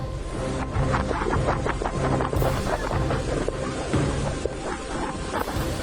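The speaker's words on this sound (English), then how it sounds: "A beautiful Italian village being decimated by a devastating flash flood." Turbulent floodwater rushing through an Italian village during a devastating flash flood, a continuous loud roar of churning water mixed with gusting wind buffeting the microphone.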